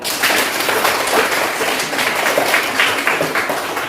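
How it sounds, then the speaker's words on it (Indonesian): Students in a classroom clap together, a lively, continuous burst of many hands at close range with no talking over it. "tepuk tangan untuk semuanya"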